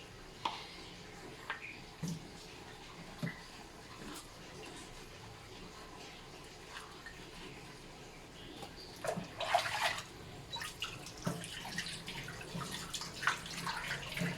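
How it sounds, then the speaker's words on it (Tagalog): Dishes are washed at a kitchen sink, with quiet clinks and knocks of plates, then a louder burst of running tap water splashing in the basin toward the end, close by and without clear talk. "Mana po panghugas sa plato."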